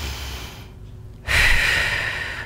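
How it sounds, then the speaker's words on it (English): One big deep breath: a quiet inhale, a short pause, then a loud, forceful exhale blown out close by, with no talk. "you take a big deep breath"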